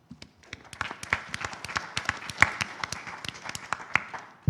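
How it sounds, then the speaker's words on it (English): Audience at a chamber of commerce candidate forum gives a round of applause, a brisk patter of many hands clapping at moderate distance that builds and trails off. "please give yourselves and everyone else a round of applause for being a part of this"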